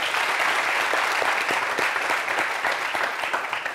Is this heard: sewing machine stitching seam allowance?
no